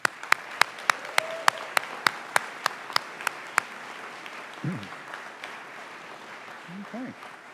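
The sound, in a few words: audience applause for new student pharmacists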